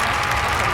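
Large stadium crowd applauding and cheering, a dense, steady roar of clapping and voices held at constant loudness throughout the short moment.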